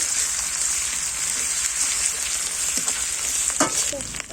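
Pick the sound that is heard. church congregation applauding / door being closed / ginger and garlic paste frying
ginger and garlic paste frying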